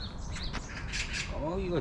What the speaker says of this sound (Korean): 저 까마귀 새끼들 가. 까마귀하고 까치하고.